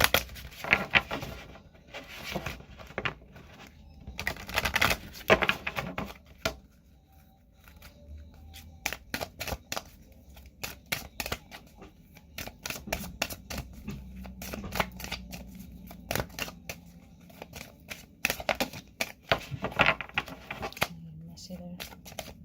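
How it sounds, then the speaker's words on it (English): A deck of 5 Keys of Happiness oracle cards is shuffled by hand in quick bursts of crisp riffling and slapping, repeated through the stretch with pauses between, close up and under a speaking voice. "So we'll take a card from the 5 Keys of Happiness Oracle card."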